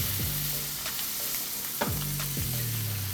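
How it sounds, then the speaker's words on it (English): A New York steak sears in a pan as butter melts around it, a constant close sizzle with a few spoon or pan scrapes cutting through, no speech. "Once you've got the steak kind of seared, go ahead and add your butter in."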